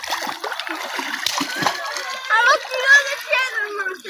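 People splashing and ducking under the water, with repeated splashes and sloshes close by, mixed with excited children's voices calling out throughout.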